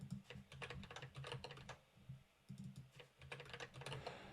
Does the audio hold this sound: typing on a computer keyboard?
yes